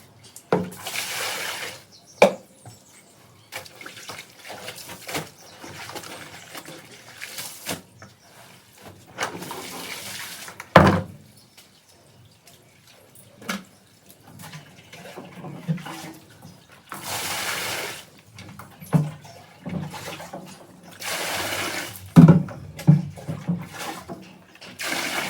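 Clothes washed by hand in a tub of water at home: irregular splashes, sloshing and wet slaps of fabric come in bursts with quiet pauses between, close and moderately loud, with no talking.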